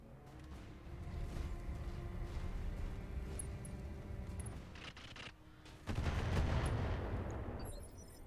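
A volley of missiles launched at a mech in the game Battletech, the game's RogueTech overhaul, a sustained rumbling salvo of rapid blasts that swells loudly near the end, with no talk over it.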